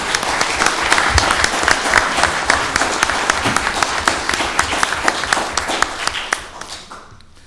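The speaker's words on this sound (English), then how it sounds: "So I want to give you a round of applause for that" Audience at a Penn Hills community voting meeting giving a round of applause, steady clapping from many hands with sharp individual claps standing out, fading away in the final second.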